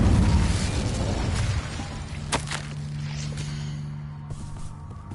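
Incendio fire spell cast in the Hogwarts Legacy video game: a loud burst of flame at the start that settles into a steady hum with brief whooshing crackles.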